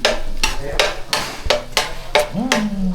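Chopped onion frying in butter in a pan, stirred with a utensil that knocks the pan in a steady series of sharp taps over a soft sizzle, with a brief voice near the end.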